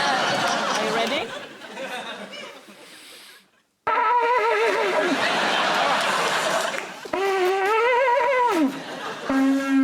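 An Aztec quiquiztli, a conch-shell trumpet, is blown in loud, wavering blasts whose pitch bends as a hand moves in the opening. A studio audience chatters and laughs around it.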